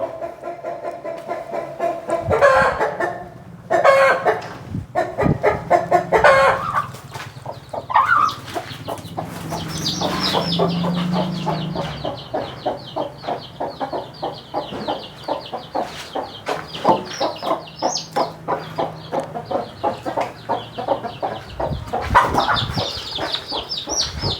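Chickens and a rooster at a rural Thai home clucking and calling repeatedly in close, rhythmic bursts, loud and continuous with no talk over them.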